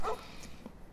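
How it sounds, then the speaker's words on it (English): A dog barks once in the video game Fallout New Vegas, a short yip near the start set against a steady wash of game ambience. "Yep, that's the dog."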